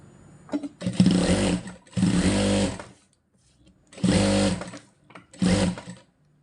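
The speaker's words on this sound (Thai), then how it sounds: "มาเย็บผ้าวนการเย็บผ้าวนก็มัน ไม่ยากหรอกจ้ะ" A sewing machine stitches fabric in circular patterns, running in four loud bursts of rapid whirring separated by short quiet pauses.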